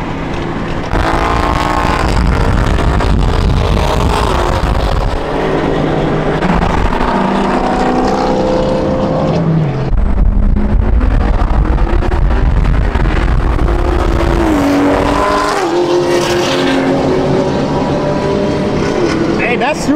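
Supercharged BMW 340i and Cadillac ATS-V race past with a loud, continuous engine roar and rising, shifting revs throughout, while people talk over the noise.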